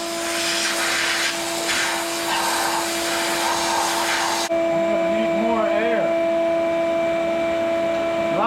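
A shop vacuum blows air through the rusty cross member of a 1969 Camaro, a loud steady whine that shifts in tone partway through, with tonal hums continuing underneath.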